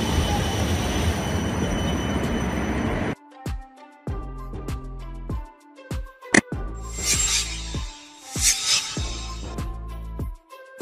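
A tram train running on rails, first a loud rushing roll, then a cut to a quieter passage with repeated rhythmic wheel clacks, tonal squeals and bursts of hiss.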